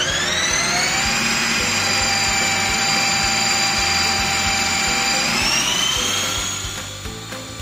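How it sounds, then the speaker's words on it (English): A Ninja Creami ice cream maker runs its sorbet program, giving a loud, steady high-pitched motor whine with a low grinding churn beneath. The pitch steps up briefly near the end, then the sound fades slightly. "Power on the machine and press the sorbet program button."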